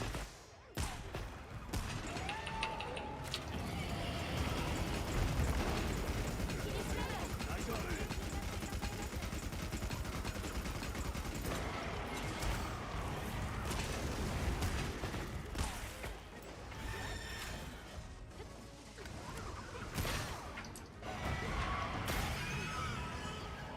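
Video game combat in a monster-hunting game, with dense, continuous bursts of explosions and rapid gunfire filling the mix, sharp blasts and crashes standing out at several points, loud and sustained throughout.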